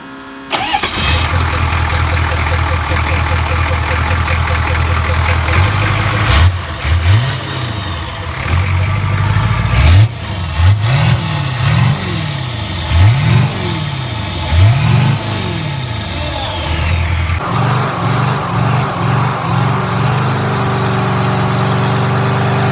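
A 1972 Chevy Nova fitted with a 6.2 liter turbo diesel cranks over and fires, then idles with a steady rumble and is revved in a string of rising and falling bursts, loud and close, with no talk.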